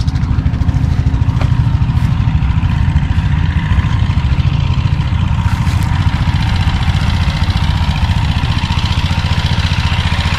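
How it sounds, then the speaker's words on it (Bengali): A power tiller engine chugs steadily while it prepares farmland on a river char beside the Kaliganga River in Manikganj. The loud, even running continues without a break. "এটা বলে পাওয়ার টিলার"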